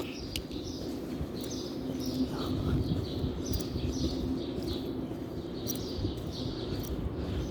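Birds chirp and coo outdoors in short repeated calls, moderately near, over a steady low rumble of background noise.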